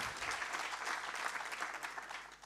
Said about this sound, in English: Give a round of applause to Dr. Azra.